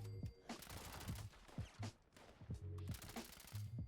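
Rapid bursts from a commando rifle with a hardened receiver in Fallout 76, quick stuttering volleys of fast shots separated by brief pauses, fairly faint, with tonal game sounds underneath.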